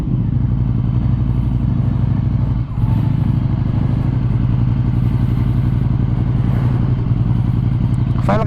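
A 2020 Ducati Scrambler 800 Icon with spoked tubeless wheels pulls away, its engine a loud, steady, close rumble with a brief dip near the middle and clattering mechanical texture throughout.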